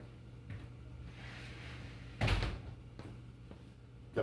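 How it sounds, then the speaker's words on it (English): A door in a garage workshop around an LS-swapped S10 pickup is pushed shut, one solid thud midway through, with a few softer knocks and rattles around it in a quiet room. "I'm gonna shut this door."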